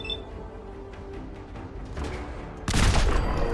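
Gunfire in the video game Fallout 4, with scattered faint shots under a background rumble, then a sudden loud burst of rapid shooting near the end.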